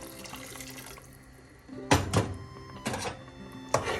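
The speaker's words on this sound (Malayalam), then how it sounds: "കറി തിളയ്ക്കാൻ തുടങ്ങുമ്പോൾ കുറച്ച് വെള്ളം കൂടെ ചേർക്കാം" Water is poured into a simmering kilimeen (threadfin bream) red chili fish curry in three short, splashy bursts with quiet pauses between them, close by and with no talking.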